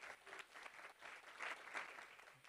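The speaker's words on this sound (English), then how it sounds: "That's the most applause I've ever received in my whole life" Brief, quiet applause from a conference audience for a speaker, a soft patter of many hands that swells slightly and fades.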